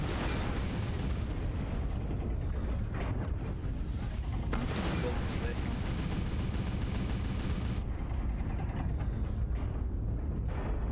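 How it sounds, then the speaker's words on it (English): Artillery strike in the MechWarrior Online video game: a dense, continuous barrage of heavy booming blasts and rumbling impacts, loud and unbroken, with mechanical clanks mixed through the roar. "Artillery strike online."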